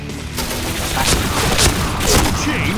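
Dense rapid gunfire from a first-person shooter in a headshot-only mode crackles in quick bursts, loud and continuous.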